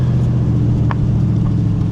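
A cammed Dodge Challenger R/T rumbles with a deep, steady exhaust note, broken by a couple of brief, sharp pops, loud and close with no speech.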